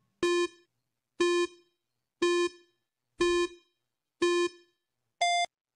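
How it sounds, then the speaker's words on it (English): Six evenly spaced electronic countdown beeps from a quiz timer, about one per second, loud and clean with silence between; the sixth beep is higher-pitched and marks the end. "Timer starts now."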